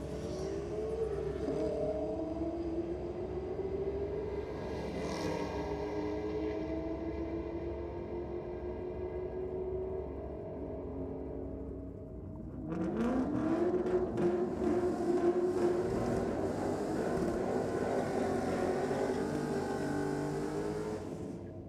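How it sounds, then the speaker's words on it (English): A one-tonner ute does a strong burnout in the Aeroflow lane at a Sydney drag and burnouts night, its engine holding a steady roar before a sharp rise into loud, sustained revving with tyre noise, no talk. "All right, that one-tonner, strong burnout down there in the Aeroflow lane"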